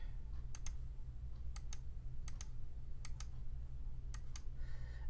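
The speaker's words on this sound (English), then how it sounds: "I'm going to double click here now" Computer mouse clicks while digitizing in PE Design 10 embroidery software, crisp close double clicks arriving in small pairs every second or so over a quiet low hum.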